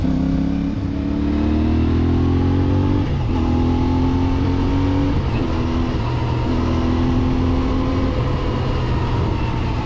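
A CFMoto 450MT motorcycle on mountain roads revs hard and loud, its engine pitch climbing repeatedly through gear changes with short dips between pulls.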